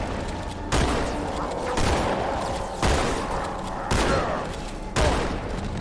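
Shotgun blasts from Halo 2: Anniversary, four loud booming shots spaced roughly a second apart over continuous game-battle noise, with no talk.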